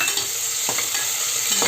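Onions and green chillies fry in a pan with a steady bright sizzle, and a few soft scrapes from stirring break through the crackle.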